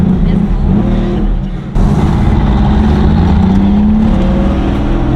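A 1995 Porsche 993 Carrera 2 with its 3.6 drivetrain pulls hard from inside the cabin, a loud, steady engine drone that dips briefly at a shift and then climbs again as speech is heard over it.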